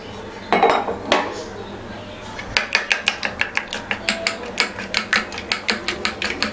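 A metal ladle scrapes and taps around a metal pan, spreading oil, in a quick series of ringing clinks, loud and close, with no talking.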